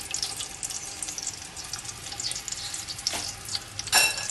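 Cardamom pods sizzle in hot oil in a pan for gajar ka halwa, a steady fizzing crackle with a louder burst of spattering near the end, close and without talk.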